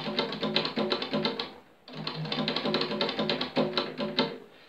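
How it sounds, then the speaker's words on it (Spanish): A keyboard played as flamenco percussion in a Soleá por Bulería rhythm: rapid, close tapping hits in tight rhythmic bursts, with a brief gap partway through. "El teclado lo he convertido en percusión,"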